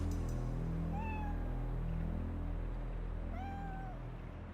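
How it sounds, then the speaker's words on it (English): A rescued kitten meows twice, clear upward-bending cries spaced a few seconds apart over a steady low rumble of outdoor background noise, with no talking. "she's found another kitten"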